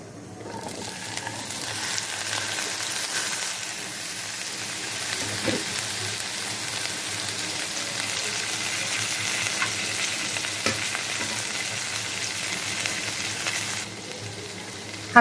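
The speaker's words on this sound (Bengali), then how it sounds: "বড়িগুলো আমি লাল লাল করে ভেজে নিয়েছি" Bori lentil dumplings frying in mustard oil in a pan, a steady moderate sizzle and crackle throughout with occasional stirring clicks, no voices.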